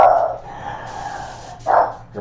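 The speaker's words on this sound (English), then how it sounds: "Hear my dogs." Several dogs barking nearby in a home airbrush art studio, two clear bursts of barks at the start and near the end with a steady background hum between them.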